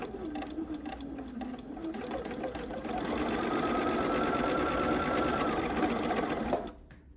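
A sewing machine stitches together four quilt blocks for an Ohio Star quilt, a steady loud mechanical whir running continuously and picking up speed, then stopping abruptly near the end.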